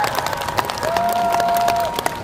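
Steady applause from an outdoor concert crowd at a Bucheon citizens' day event, clapping continuously at moderate volume, with a faint tonal hum running through it.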